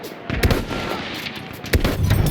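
Battlefield 1 gunfire: sharp, loud shots and short bursts crack out in the foreground, with two prominent blasts over a rumbling battle background and no clear speech.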